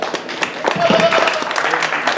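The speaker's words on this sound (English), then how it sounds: "Let's give them all a round of applause." Audience at a junior livestock show ring gives a short round of applause, scattered claps from a modest crowd heard under ongoing talk and a tonal hum.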